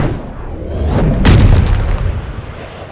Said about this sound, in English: did you hear the sound of that coming off the club face? It was like a cannon.